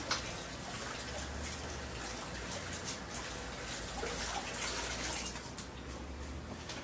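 Green onions washed under a running kitchen tap, a steady faint rush of water with small splashes and shifts as the stalks are rinsed.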